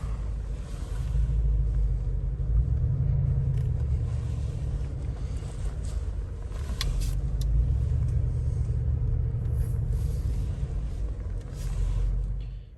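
Mercedes G63 AMG rumbling steadily while driving, a deep low engine drone heard from inside the cabin, continuous and moderately loud with slight swells, no talking.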